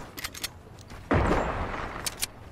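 A single gunshot blast rings out in a video game, with a sharp onset and a short decaying tail between faint clicks.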